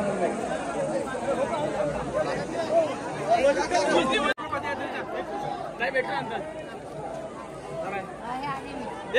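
Dense crowd chatter at the Ekveera Aai palkhi festival, a continuous babble of many nearby voices, with one brief dropout partway through.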